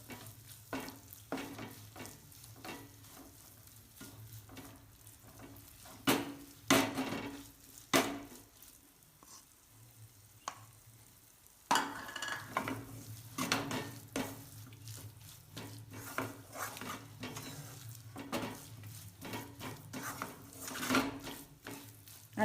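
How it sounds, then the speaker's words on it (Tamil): Grated coconut is stirred with ghee in a pan for coconut burfi. A utensil scrapes and clinks against the pan in irregular bursts over a soft, steady sizzle, close and fairly quiet. "சேர்த்து நல்லா கிளறி விடுங்க"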